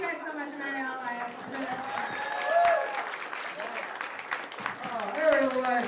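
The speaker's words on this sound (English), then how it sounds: "Clap it up for Ariel." Comedy club audience applauding and cheering for comedian Ariel Elias in Times Square, a dense clapping wash under a host's voice, swelling in two bursts.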